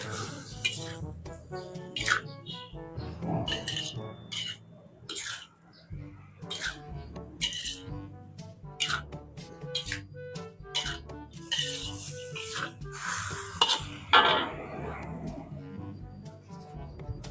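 Vegetables are stirred in a pan for a home-cooked Indonesian stir-fry, giving close clattering scrapes and taps of a utensil against the metal, with a voice talking in the background.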